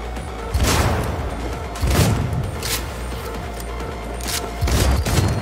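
Bursts of gunfire in the video game Cyberpunk 2077 during a mini boss fight, heavy booming volleys recurring every second or so against a steady low background rumble.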